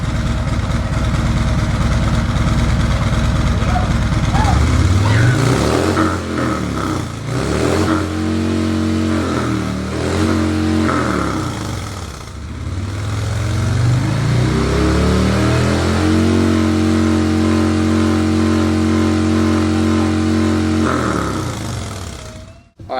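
A 2019 Harley-Davidson Street Glide Special engine rumbles nearby, idling with a deep lumpy beat, then revs up in several rising and falling blips and a longer throttle sweep before settling back and cutting off at the end.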